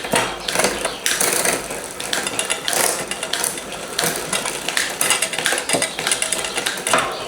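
A bicycle rear derailleur, badly damaged, shifting through gears as the shifter lever is worked, with loud close ratcheting clicks and rattling chain noise from a spinning drivetrain.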